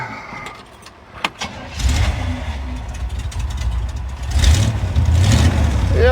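An old hot rod's engine turns over after a few sharp clicks and catches, settling into a loud, rough idle that swells and rumbles steadily close by.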